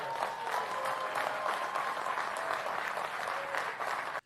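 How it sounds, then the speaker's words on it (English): Thin, steady applause from a political crowd, a scattered patter of clapping that holds evenly for a few seconds before cutting off abruptly. "That's a smattering of applause."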